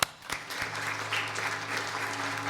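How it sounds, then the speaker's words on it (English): Audience at a 40th anniversary event of the Pennsylvania Council for Sexual Minorities applauding steadily, a dense and sustained round of clapping filling the room with no talk over it. "So applause to all of their efforts."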